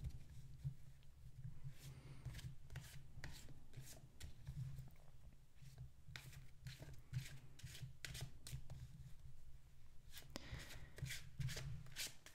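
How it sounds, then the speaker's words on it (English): Soft, close riffling and flicking of playing cards being shuffled, in repeated quick bursts with brief pauses, quiet and without talk. "while I'm shuffling the cards."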